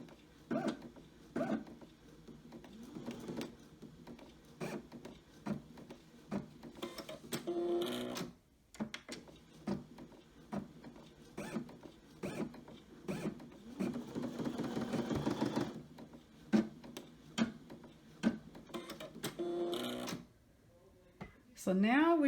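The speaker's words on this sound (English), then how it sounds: "So I'm going to take out the top thread and just stitch it" A home embroidery machine stitching out a design with its top thread removed makes a mechanical whir with rapid needle clatter in stops and starts, heard quietly alongside intermittent talking.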